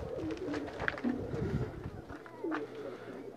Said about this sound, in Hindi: ये हमारा अली वाला कबूतर है।